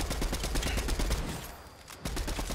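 Rapid bursts of gunfire in the video game Fortnite during a trios match, a fast repeating rattle of shots that pauses briefly before resuming, loud and close.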